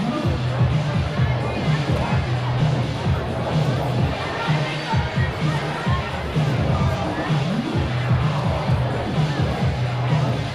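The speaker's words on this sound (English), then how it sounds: "Standing room only crowd is still filing in here." Steady crowd hubbub fills a hockey arena as a standing-room-only audience files in for a Reno Ice Raiders versus Park City Pioneers game, with continuous murmur and babble and voices talking throughout.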